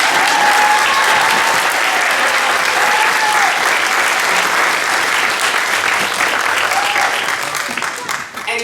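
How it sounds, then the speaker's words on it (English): A school theatre audience claps loudly and steadily after a high-school play, dense sustained applause that tails off near the end. "I have to give a special round of applause"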